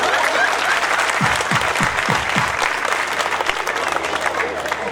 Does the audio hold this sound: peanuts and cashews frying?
no